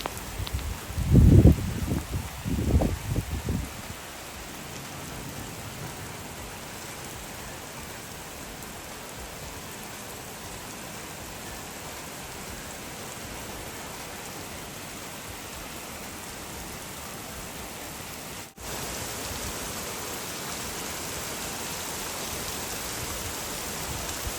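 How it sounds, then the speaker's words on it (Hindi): Heavy rain pours steadily in the UK, a dense, even hiss of falling water that holds for the whole stretch, preceded by a short burst of muffled low thumps at the start. "बहुत ज़्यादा रेन हो रही थी।"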